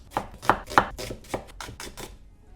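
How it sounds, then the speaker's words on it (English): A kitchen knife thinly slices red onions on a cutting board for paneer bhurji, about eight crisp, evenly spaced cuts close to the microphone, loud and alone with no talking. "I'm gonna thinly slice 2 onions."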